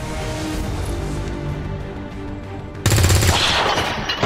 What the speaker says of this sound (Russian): Выстрел с выгодной высоты.